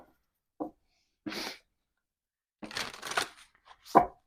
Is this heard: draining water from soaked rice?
no